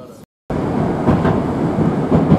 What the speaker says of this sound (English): So on the newer Moscow metro trains, this is one of the newer trains